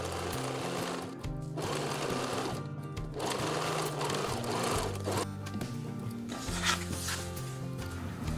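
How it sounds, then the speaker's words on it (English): A sewing machine stitches across the waistband and bib of a frilly apron, running in a close, steady mechanical rattle with a few brief pauses and changes in speed, and no voices. "you just sew across it and then iron it down"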